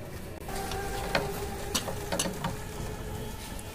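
Small metal mechanical clicks and scrapes from a Honda C50 motorcycle engine as the dial plate is taken off, a few sharp taps over a steady low background hum, close and moderately loud.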